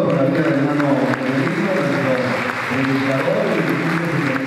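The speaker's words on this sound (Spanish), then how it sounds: "Vamos a una vuelta de palmas al Señor por la vida del hermano Evelino, nuestro" Members of a church congregation applaud steadily at a fiftieth-anniversary service, a dense, continuous clapping mixed with voices and talk throughout.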